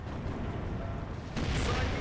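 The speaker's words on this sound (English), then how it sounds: "That was actually a really good shot with that SU-85 there." An SU-85 tank destroyer fires in the Steel Division 2 strategy game, a single loud boom partway through rising out of a dense rumbling battlefield din of distant artillery.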